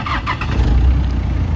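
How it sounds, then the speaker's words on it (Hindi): A restored 1983 Toyota FJ40 Land Cruiser cranks with a short whirring starter squeal, then catches into a low, steady engine rumble, close and loud with no voices. "ज़रा स्टार्ट कीजिएगा इसको, इसका मैं आप लोगों को साउंड चेक कराता हूँ"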